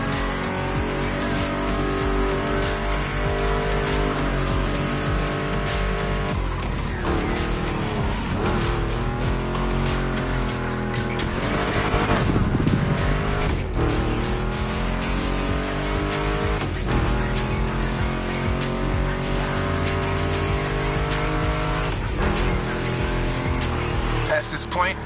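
A Mustang GT muscle car in the racing game The Crew Motorfest drives with a steady, loud engine drone and rising and falling revs, with tire squeal in places, under continuous music or speech.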